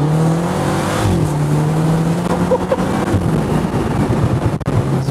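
A 2024 Morgan Plus 4 sports car accelerates close by, its engine note climbing, dropping at a gear change and climbing again through the gears, with wind buffeting in the background.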